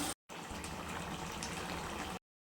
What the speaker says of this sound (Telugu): కూర అయితే ఆల్మోస్ట్ అయిపో వచ్చింది ఇందులో కొన్ని వాటర్ అయితే పోసేయాలన్నమాట